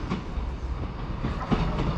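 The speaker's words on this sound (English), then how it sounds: "Here is the 1915 East Midlands Railway service to Nottingham from Skegness." East Midlands Railway Class 156 diesel units, two coupled, standing at a Lincolnshire platform on a Skegness to Nottingham service, giving a steady low rumble and engine hum with faint clatter throughout.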